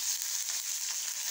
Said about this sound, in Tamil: எண்ணெய் காஞ்சிட்டு உளுந்தம்பருப்பு, கடுகு போட்டாச்சு, கருவேப்பிலை